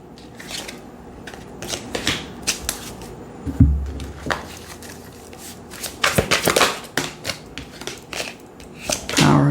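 Tarot cards handled and laid out on a table at close range, with soft rustling, flicks and light slaps in an irregular run, one thud partway through, no speech.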